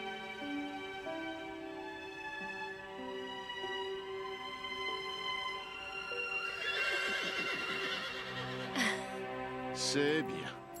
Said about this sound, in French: Il y a un cheval qui vient d'arriver au refuge.